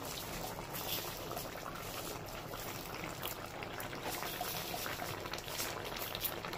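Pumpkin and eggplant boil in a pot, giving a steady, close bubbling and hissing simmer that holds even throughout with no talking.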